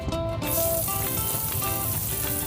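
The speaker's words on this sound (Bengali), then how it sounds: "ওই তেলের মধ্যে দিয়ে দেবো আমি আগে থেকে কেটে রাখা পেঁয়াজ কুচো।" Pre-chopped onions dropped into hot oil in a pan for a home-style chicken curry, sizzling steadily and close with a bright crackling hiss throughout.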